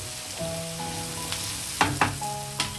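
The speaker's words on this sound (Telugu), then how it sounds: "ఇదిగో ఉల్లిపాయలు వేగిపోయాయి, కారం వేస్తున్నాను" Chopped onions fry in a pan as chili powder goes in: a steady close sizzle with a few sharp spoon taps against the pan, over a faint sustained tonal hum.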